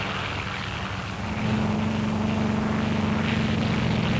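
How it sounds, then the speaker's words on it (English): Propeller aircraft drone overhead above anchored ships during the 1946 Operation Crossroads nuclear tests, a steady engine hum that grows louder partway through and holds. "scores of other aircraft are taking their prearranged positions in the sky above the anchored ships"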